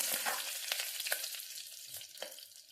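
Curry leaves and dried red chillies stirred in hot oil for a mashed tomato gravy: a close, steady sizzle broken by several sharp scraping strokes of the spoon in the pan, with no talking.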